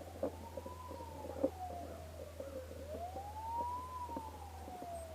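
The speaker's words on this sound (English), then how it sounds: "Here's some sirens coming down the road." Emergency vehicle sirens wail on a road outside an RV, slow rising and falling sweeps heard at a moderate distance over a low steady hum, with no one talking.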